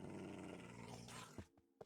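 Dogs from a Minecraft Mineplex mob arena game growl in a loud, continuous rumble that fades into a few short, sharp sounds near the end.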